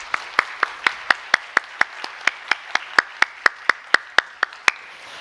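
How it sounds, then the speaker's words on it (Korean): A church congregation gives a round of applause during a worship service, about two dozen distinct, evenly paced claps ringing out clearly over a soft wash of background clapping, with no talking. "우리 뜨거운 박수로 이 두 아이를 맞이하도록 하겠습니다."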